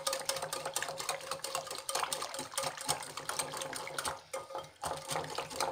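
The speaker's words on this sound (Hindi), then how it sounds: "इस तरह विस्कर से या चम्मच से, जिससे भी आप करते हों घर पे, इस तरह से इसको मथ लीजिए अच्छी तरह से नमक और मिर्ची मिक्स करके" Curd being whisked by hand with salt and chili for village-style UP dahi vada, a busy run of quick clinking, scraping strokes against the bowl, close and steady with a short pause near the end.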